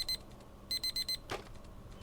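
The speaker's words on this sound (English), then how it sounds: "the alarm blares out of nowhere" An alarm clock in the video game Deep Pixel Melancholy blares in short bursts of electronic beeping, one single beep then a quick run of three, followed by a brief rustling sound.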